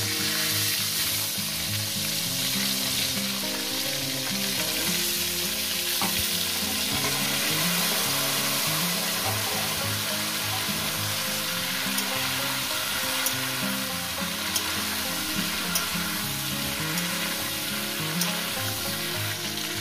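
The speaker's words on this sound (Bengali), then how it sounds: "দিয়ে আমি ফুলকপিগুলো লাল লাল করে ভেজে নেব" Cauliflower florets fry in oil with turmeric, producing a dense, steady sizzle with bubbling crackle and occasional stirring, close up and constant throughout without any voices.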